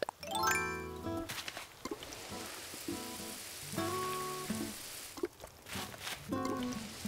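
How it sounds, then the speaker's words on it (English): Watering flowers with a watering can in Animal Crossing: New Horizons: a soft, continuous sprinkling patter runs under bright chiming game music, with short melodic jingles repeating and the water hiss carrying steadily throughout. "Let's water them."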